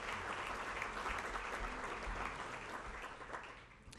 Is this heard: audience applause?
yes